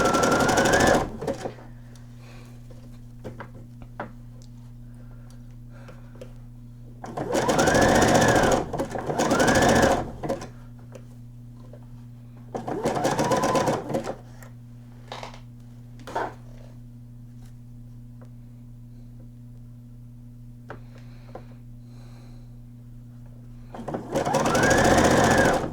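A sewing machine runs a zigzag stitch along a nightgown seam in several separate bursts of steady whirring, with a low constant hum between runs.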